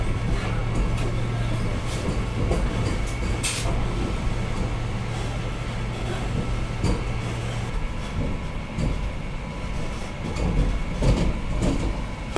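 A Vande Bharat Express train running after a short station halt, a steady loud rumble and rolling rail noise with a low hum throughout and faint clicks on top, no one speaking.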